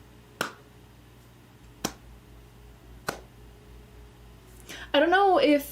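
Three single sharp hand claps, evenly spaced about a second and a half apart in a quiet room, followed by a voice speaking.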